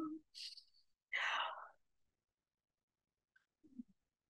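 A real yawn during a restorative yoga session, with the jaw stretched wide: breathy, airy exhale bursts rising and fading over a couple of seconds, then a brief soft voiced sound after a pause, close and fairly quiet.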